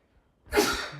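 A single sudden sneeze bursts out during a live TV cooking show after a moment of near silence, sharp and breathy, close to the listener.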